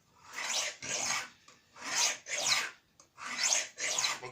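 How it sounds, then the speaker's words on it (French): Hand file rasping across the hard steel blade of a woodworking tool, six loud rough strokes in a steady back-and-forth rhythm with brief pauses between, close up and alone. "l'acier de ces outils c'est très dur, et que il va falloir limer"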